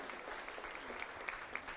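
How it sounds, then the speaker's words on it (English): An audience at an evening hall-of-fame ceremony claps, a faint, steady patter of scattered hand claps continuing throughout without a clear start or end. "give yourselves a huge round of applause"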